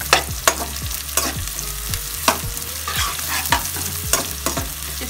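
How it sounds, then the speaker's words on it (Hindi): Green onion whites sizzle steadily in a hot pan while a utensil stirs and scrapes at an irregular rhythm, with sharp clinks standing out above the frying. "इसको हल्का सा सौते करेंगे।"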